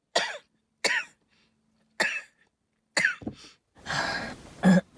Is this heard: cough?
yes